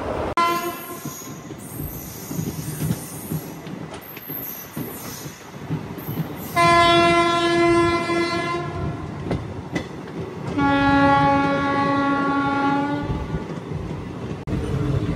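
Narasapur–Arunachalam weekly special train 07219 on its inaugural run near Bapatla, rolling steadily with a loud rumble and wheel clatter, and two long, blaring horn blasts sounding close by.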